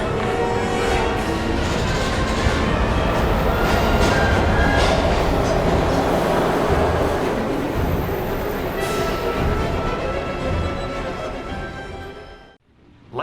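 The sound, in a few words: train from the video game Heavy Rain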